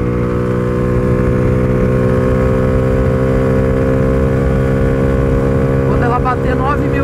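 A Honda Pop 120 motorcycle engine is revved hard at high RPM while climbing a hill, giving a loud, sustained buzzing drone with rising and wavering pitch near the end.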